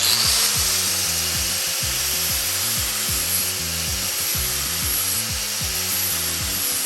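Power sander with a flap disc grinding a steel knife blade toward a mirror polish, working up through 120, 240 and 320 grit; a steady close whir with repeated low rhythmic bumps as the disc rides the blade, no talking.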